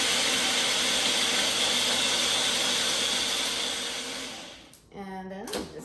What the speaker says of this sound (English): And then I put it back into the blender. And then I put it on low